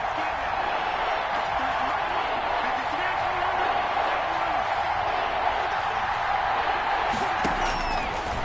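A stadium crowd in an American football video game, with the Packers driving toward a touchdown, keeps up a steady, dense roar throughout, with faint whoops and cheers rising inside the continuous wash of noise.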